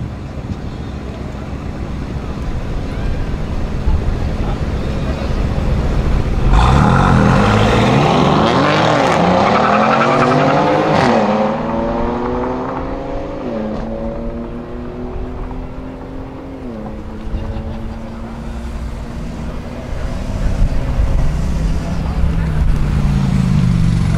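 Drag race between a Mercedes-AMG C63S Estate tuned to 740 hp and a BMW M2 Competition: loud engine roar rising through several gear changes with climbing and dropping tones over strong wind noise, under continuous talk.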